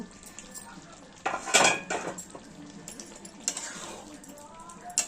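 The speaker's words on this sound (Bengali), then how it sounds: "ঠিক কুড়ি মিনিট হয়ে গেছে আমরা ঢাকনাটা খুলে দেখে নেব" A cooking pot's lid comes off after a chicken rezala has simmered on low heat, giving a couple of loud metallic clanks and scrapes amid quieter kitchen clatter.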